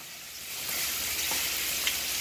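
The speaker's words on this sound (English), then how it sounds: "We want to make sure the frying pan is nice and hot, so it will like" Ground turkey sizzles steadily in a hot frying pan for a bell pepper stir-fry, a dense, even crackle that swells slightly and holds close and loud with no talking.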